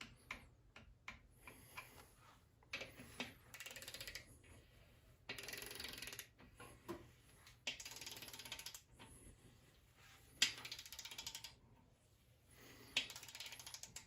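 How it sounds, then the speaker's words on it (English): A torque wrench ratchets in short bursts of quiet clicking as engine bolts are tightened to 20 newton meters in sequence during a Coyote engine swap, with pauses between strokes and no talking. "I torque all the bolts to 20 Newton meters first time out."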